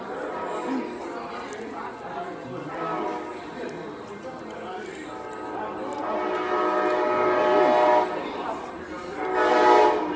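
A passing train sounds a long, loud sustained horn that builds toward the end and over a rumbling background, while people chat nearby during a chicken and waffles dinner.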